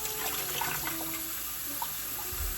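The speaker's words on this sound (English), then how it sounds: "I'm just filling it up. Yep, okay, it's filling up. I've got cold water going here." Cold tap water pouring into a sprouting jar, a continuous splashing, gurgling flow that stays steady throughout, close by with no talking.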